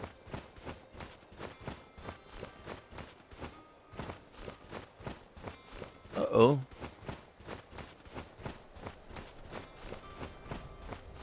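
Horse hooves clop in the video game Skyrim, a steady run of light, evenly spaced footfalls throughout, with a brief spoken exclamation breaking in partway.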